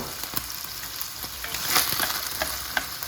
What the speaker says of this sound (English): So now we're just sauteing the onion and the green pepper, letting it simmer a bit.